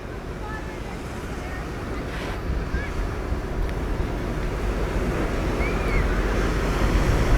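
Waves and wind at a Lake Michigan beach park with clean sand, a continuous wash of surf that builds slightly, plus a few faint bird chirps and wind rumble on the microphone.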